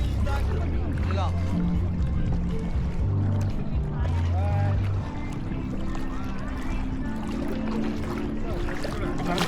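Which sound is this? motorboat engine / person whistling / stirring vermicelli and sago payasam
motorboat engine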